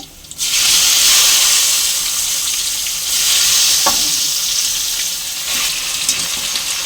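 Chopped goat blood pieces dropped into a pan of hot tempering oil, bursting into a loud, steady sizzle with occasional stirring scrapes, heard close up without talk.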